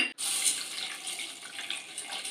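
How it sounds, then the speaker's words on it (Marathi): Water runs steadily from a tap in a continuous splashing hiss, close by, as moong dal is rinsed in a pressure cooker container, with no talking. "आपल्याला दोन ते तीन पाण्याने डाळ धुवून घ्यायचे"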